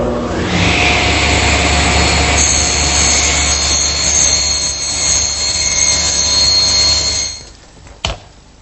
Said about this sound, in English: there's no better tool for that than my homemade panel cutter